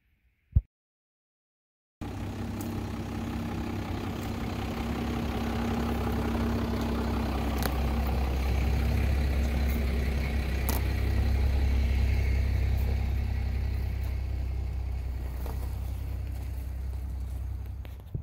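An RV engine idles with a steady low rumble, close and continuous for most of the stretch after a single sharp click and a brief silence at the start.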